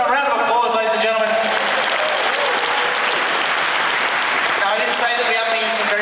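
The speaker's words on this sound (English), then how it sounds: "Give them a round of applause, ladies and gentlemen." Audience applause at a live Dungeon Crawl tabletop game show: a loud, steady wash of clapping from a crowd that holds for several seconds, with a voice talking over its start and end.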